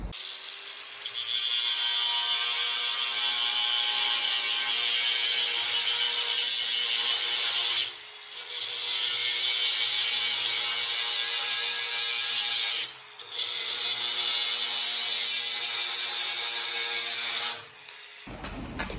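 Power tool cutting metal angle pieces for a quad rack, a steady loud high whine held for long stretches, broken by two brief pauses before it winds down.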